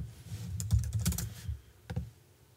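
Typing on a computer keyboard: a short, close run of soft key taps at an uneven pace, alone with no talk.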